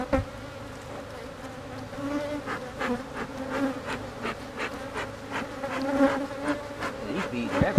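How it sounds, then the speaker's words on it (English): Honeybees swarm around an opened, aggressive hive, a dense, steady buzz with many wingbeats passing close to the microphone, rising and falling in loudness. "These bees are everywhere."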